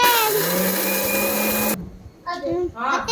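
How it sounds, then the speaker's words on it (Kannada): A kitchen mixer grinder blends tomato and onion with a loud, high motor whine that stops abruptly after under two seconds, followed by a voice speaking. "ಮಿಕ್ಸಿಗೆ ಹಾಕಬೇಕು."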